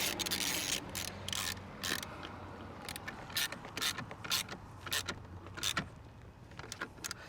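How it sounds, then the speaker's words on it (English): A ratchet snugs down the battery terminal bolt on a 2018 Chrysler Pacifica, a quick run of close, crisp clicks in short repeated bursts over a faint background hum. "Once it's on nice and tight, we can go ahead and tighten up our bolt."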